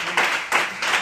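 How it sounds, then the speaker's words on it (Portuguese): A church congregation claps in praise during a worship service. Three brief, close bursts of clapping follow one another in about a second. "Dê uma salva de palmas ao Senhor."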